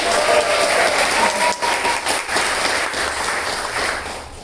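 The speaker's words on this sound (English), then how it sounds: "Round of applause for my favorite handstand" Audience applause greets a handstand stunt, a loud, steady wash of clapping that holds for several seconds and dips briefly near the middle.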